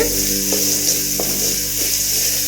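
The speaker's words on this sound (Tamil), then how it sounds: "இது கொஞ்சம் 1 நிமிஷம் வதக்கட்டும்." Onion, dal and asafoetida sautéing in oil in a pan for spicy kozhukattai, a steady close sizzle with a couple of sharp scraping stir strokes.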